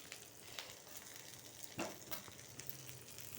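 Small eggplants fry in a pan for a homemade vankaya pachadi, a soft continuous sizzle with occasional louder pops and stirring scrapes, close and fairly quiet.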